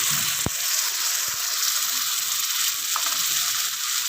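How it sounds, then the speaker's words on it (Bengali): Mustard paste frying in hot oil for a barramundi (bhetki) fish curry, giving a steady close sizzle throughout with a couple of brief utensil knocks. "এবার এটাকে ভালো করে কষিয়ে নিয়ে এর মধ্যে ঢেলে দেবো সর্ষে বাটা।"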